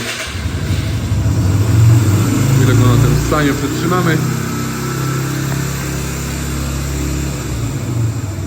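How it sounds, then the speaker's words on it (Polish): A Yamaha XV 125 Virago V-twin motorcycle engine idles with a low, throbbing rumble while someone talks over it, the engine note holding steady. "już słychać, że ten silnik to jest zupełnie inna praca niż taki typowy single"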